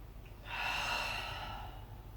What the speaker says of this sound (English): Big inhale through the nose. Big exhale through the mouth.